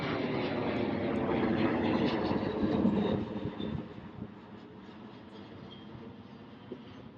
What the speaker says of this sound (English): The airplane.